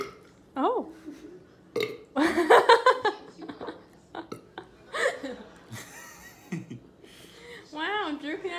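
Repeated burps during a mukbang eating session, several loud close belches spread across the stretch, with people talking and laughing between them.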